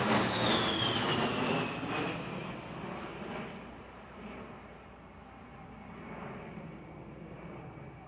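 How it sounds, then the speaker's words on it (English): An A-10 Warthog jet flies past at an air show, a broad roaring whoosh with a falling whine that swells at first, then fades into a steady distant rumble. "They are also much quieter than comparable engines, making the Warthog much harder to hear"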